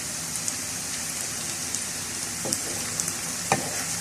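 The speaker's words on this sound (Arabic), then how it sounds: "اللي هحمره من الكفتة هحطه في التقلية على طول" Kofta frying in oil, a soft steady sizzle with scattered small pops and spatters, heard alone at moderate level.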